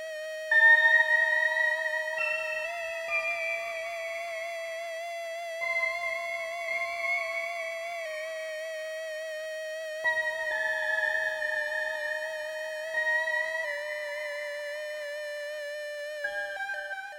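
Electronic tones from a synthesizer modeled on an 1980s FM synthesizer play alone, bright sustained notes with rich overtones that glide and shift in pitch in overlapping phrases.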